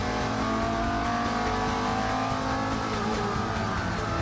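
A racing Volvo at full throttle on the Nürburgring toward the NGK chicane gives a loud, sustained, high-revving engine wail, dense and continuous throughout, with no talking.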